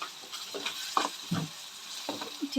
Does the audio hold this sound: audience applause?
no